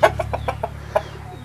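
Chickens kept inside a small house cluck in a quick series of close, loud, short calls that thin out after the first second, over a low steady hum.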